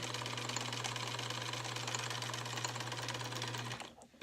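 A sewing machine runs steadily through its stitches with a loud, even mechanical whir and rapid needle chatter, then stops abruptly just before the end.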